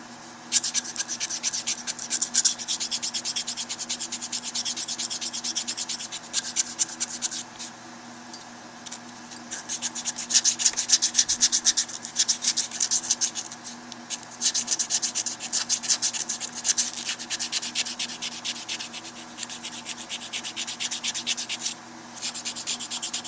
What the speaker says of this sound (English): Here we're not shaping, you're pretty much just taking out the marks from the previous sandpaper.